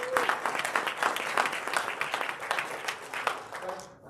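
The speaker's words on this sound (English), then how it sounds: "Round of applause." An audience at a sales team gathering applauds steadily, a dense sustained wash of clapping that holds for about four seconds before tapering off at the end.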